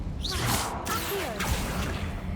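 Accio summoning spell whoosh in the Hogwarts Legacy video game, a quick swishing rush followed by a faint crash and rattling effects over game background sound.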